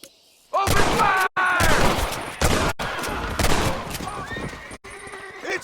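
A Red Dead Redemption gunfight erupts with rapid, loud gunshots amid a horse's shrill whinnies and hoofbeats, shots cracking in quick bursts with short gaps between them.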